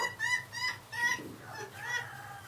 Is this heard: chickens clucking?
yes